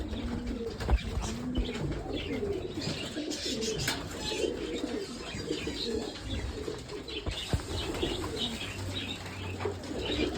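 Saya pigeons coo repeatedly at close range in a soft, rolling rhythm, with occasional chirps and brief wing flutters among them.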